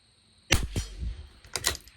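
Rifle shots from a CZ 457 LRP firing Lapua Center X ammunition at a 50-yard range: a sharp close crack followed by a second report, then two quicker snaps after a short pause.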